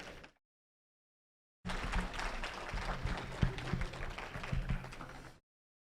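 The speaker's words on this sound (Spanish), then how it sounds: "Vamos a recibirlo con un fuerte aplauso" A crowd breaks into sustained applause, dense clapping that swells and holds for several seconds before stopping abruptly.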